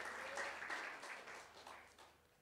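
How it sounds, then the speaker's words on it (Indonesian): A church congregation at a worship service in Tigaraksa, Indonesia breaks into applause, quiet and distant-sounding clapping with some pulsing that tapers off over a couple of seconds. "Berikan tepuk tangan."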